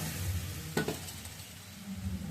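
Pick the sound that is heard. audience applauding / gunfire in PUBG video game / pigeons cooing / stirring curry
stirring curry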